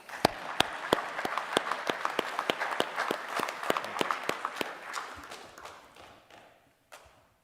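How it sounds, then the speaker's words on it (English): A commencement crowd claps steadily in sustained applause, sharp individual claps standing out, then the clapping thins and fades to a few last claps. "Please give them one more round of applause."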